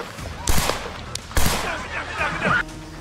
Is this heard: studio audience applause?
no